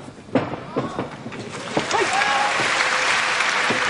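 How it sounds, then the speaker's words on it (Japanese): An arena crowd at a 1997 Kingdom mixed martial arts bout, Kazushi Sakuraba vs Yuhi Sano, swells into applause that builds into a steady roar, while a commentator talks over it. "場内から拍手です。"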